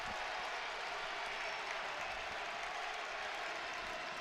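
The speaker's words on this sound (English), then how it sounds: "crowd going wild" A packed Worthen Arena crowd roars continuously through a men's college basketball game between Ball State and Akron, a dense, steady wall of cheering and applause with no break.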